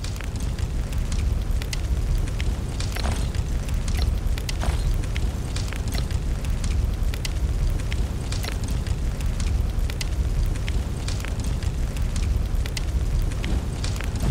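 A campfire with raw meat cooking in SoulMask crackles and hisses steadily, with frequent sharp pops over a dense, even roar, close and continuous.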